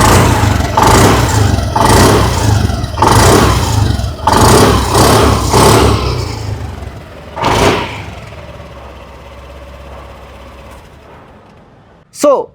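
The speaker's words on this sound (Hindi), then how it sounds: "आइए अब सुन लेते हैं इस स्कूटर की एग्जॉस्ट नोट।" A Honda Activa 110 25th Anniversary Special Edition scooter, close up, revving in repeated rhythmic bursts over an idle before dropping back, then a short sharp knock near the end.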